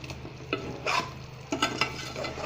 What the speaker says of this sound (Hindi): इसको खूब घुमाएंगे ताकि सारी जो हमारे जो बॉल्स हैं, जो तोशे हैं, सारे हमारे ये इस शीरे में डूब जाएं